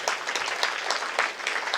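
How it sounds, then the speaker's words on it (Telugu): Listeners at a meditation talk give Ramu a brief round of clapping, with the claps landing in loose, uneven bursts at moderate volume and no voices over them. "సో ఒకసారి రాము గారికి మనం అలా చప్పట్లు కొడదాము."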